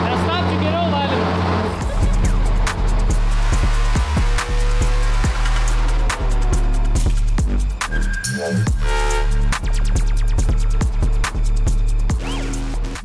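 A V8 engine on a dyno revving hard toward 7,500 rpm, a loud sustained roar with rising and falling pitch and rapid crackling pulses, with people talking over it.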